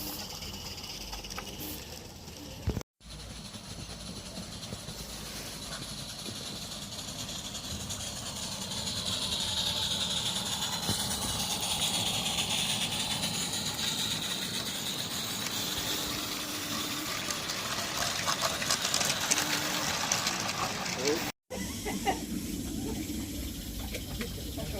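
Southgate Light Railway steam locomotive running close by, a steady broad hiss and rumble that swells mid-way and holds, with a short break near the start and another near the end, while people talk nearby.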